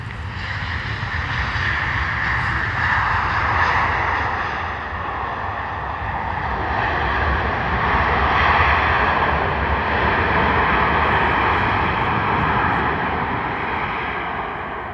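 An airliner, apparently an Emirates jet, taxis off the runway onto the taxiway at Stansted Airport, a loud, steady engine roar that holds throughout without any talk.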